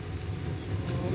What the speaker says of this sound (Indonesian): Kencangnya hembusan angin sempat membuat warga panik